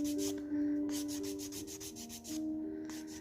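Close-up rubbing scrape of sanding a homemade clay crochet hook handle in a kitchen, repeated short strokes in a quick steady rhythm over a faint steady hum, with no voices.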